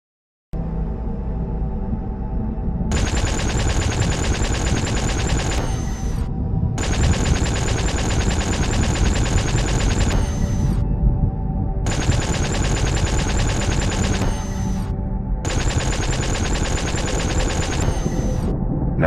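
Spaceship weapons in the game SpaceBourne fire in four long, loud bursts of rapid automatic shots, separated by brief pauses, over a constant low engine hum.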